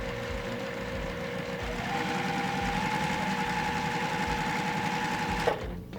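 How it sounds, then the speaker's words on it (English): A domestic sewing machine stitches a quarter-inch seam through scrappy cotton quilt pieces, a steady rapid mechanical whir close by that runs for several seconds and then stops abruptly. "I'm gonna sew a 1/4 inch seam just like we always do."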